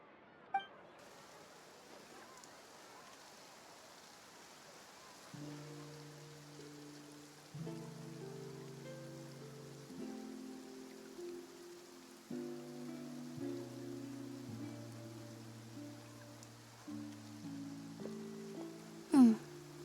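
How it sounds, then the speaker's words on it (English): Steady soft hiss of rain falling in the video game Genshin Impact, a continuous wash that persists while gentle melodic music tones join partway through; no talking. "Looks like rain."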